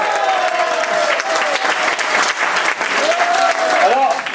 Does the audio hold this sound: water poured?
no